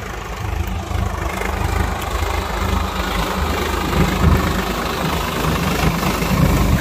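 A Swaraj 50 hp tractor pulls a large plough through a field in second gear at about 1000 RPM, its diesel engine a loud, steady, low rumbling drone with slight surges, close by and with no voices.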